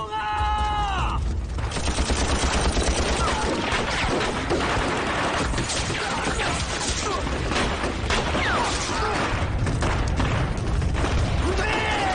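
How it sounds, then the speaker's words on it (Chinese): Light and heavy machine guns hammer away in a staged war-drama battle against Japanese troops at a village. Dense, continuous bursts of gunfire rattle loudly and steadily, with shouting voices mixed in at the start and end. "轻重机枪掩护，把子弹全部打光"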